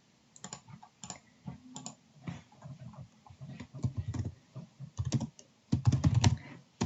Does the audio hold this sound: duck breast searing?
no